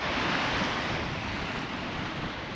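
Steady surf rolls onto the Bristol Channel shore at Bossington a couple of hours after low water, a loud continuous wash of breaking waves mixed with gusting wind noise on the microphone.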